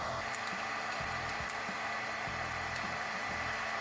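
A steady, whirring fan inside a PM-1200 popcorn machine drones continuously at a constant pitch, with faint rattling underneath.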